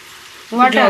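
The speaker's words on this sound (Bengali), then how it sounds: "একটু জল দিয়ে দিলাম সামান্য আর একটু জল দেবো" Water splashes into a hot pan of mourala fish chachari, setting off a sudden burst of loud sizzling that flares up after a quiet start.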